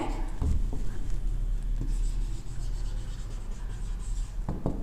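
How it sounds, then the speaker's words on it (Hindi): Chalk or marker writing on a classroom board during a biology lesson on cells, with short scratchy strokes over a steady room hum, fairly close and moderate in level. "चलो लाइव नहीं लिविंग लिख लेते हैं"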